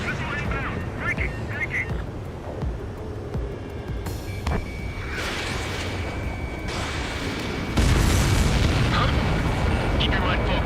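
In Ace Combat 7, destroyed enemy aircraft burst into deep rumbling explosions amid constant jet-engine roar, with a louder boom surging near the end and game radio voices talking over it.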